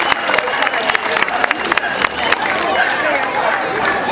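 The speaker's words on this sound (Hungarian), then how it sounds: "maguk megérdemelnek egy tapsot" Crowd applause for performers at an outdoor goose festival, a steady wash of clapping and crowd noise with sharp individual claps standing out, mixed with talk and chatter.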